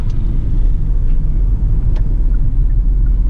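A 2020 Hyundai Creta mid-variant S driving and accelerating, heard as a steady loud low rumble of engine and road noise from inside the car, continuous with no talking.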